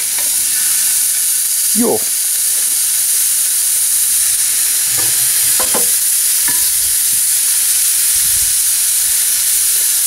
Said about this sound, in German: Nebenbei die Zwiebeln weiter schmoren lassen.